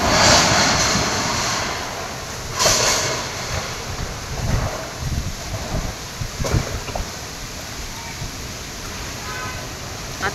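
Unseasonal rain and windstorm in Mumbai, with wind buffeting the microphone, a steady roar of rain and gusts, and a few sharp knocks and rattles in between, loud at the start before settling into a continuous rush.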